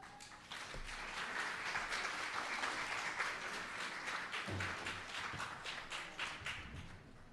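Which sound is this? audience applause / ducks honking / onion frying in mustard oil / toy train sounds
audience applause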